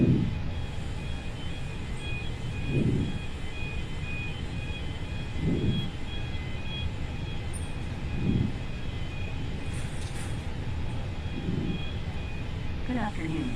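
Steady low cabin roar inside an ITA Airways Airbus A320 on a Milan Linate to Prague flight, continuous and moderately loud, with a voice speaking over it at intervals.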